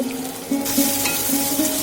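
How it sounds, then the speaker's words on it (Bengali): Carrots and potatoes fry in a pan for vegetable dal, a steady close sizzle with a few soft stirring scrapes and no talk. "এবার করছে গাজর আলু ভাজা এটা কিন্তু ভেজ ডালে দেওয়ার জন্য ভাজা করছে মা"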